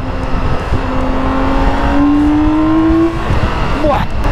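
A loud 2022 BMW K1600 motorcycle engine revs steadily higher in pitch, holding a rising whine before dropping off, close to the listener.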